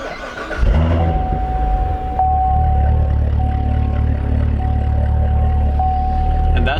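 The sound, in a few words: Corvette Z06 engine starting up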